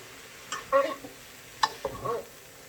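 Egg roll in a bowl ingredients being mixed in a pan with rice vinegar and toasted sesame oil, giving a few short scraping stirs and faint sizzles with quiet pauses between them.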